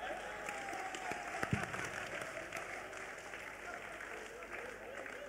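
An audience claps at a live Shyam bhajan kirtan in Raipur, a steady wash of moderate applause with a few sharper individual claps, heard a little distant and continuous throughout.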